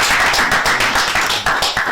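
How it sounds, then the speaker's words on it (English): Studio audience at a televised quiz competition applauding, a loud, dense burst of hand claps sustained close by, with no talk over it. "applause, please"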